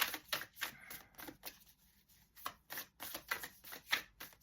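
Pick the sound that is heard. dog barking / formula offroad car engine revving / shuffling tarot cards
shuffling tarot cards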